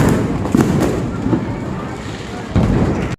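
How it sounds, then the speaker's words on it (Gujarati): Diwali firecrackers bursting nearby in a dense crackling roar, with sharper pops standing out, amid voices talking. "ચાલો ફટાકડા ફોડી લીધા, બધાએ ફોડી લીધા"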